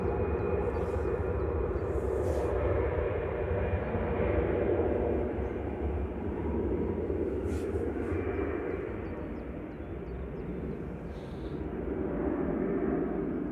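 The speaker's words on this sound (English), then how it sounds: "A320 Classic there of EasyJet with flight 729 over to Jersey in the Channel Islands." An EasyJet Airbus A320 Classic departs Manchester Airport, its jet engines giving a steady, loud broadband roar that swells and eases slightly over several seconds, heard alone without voices.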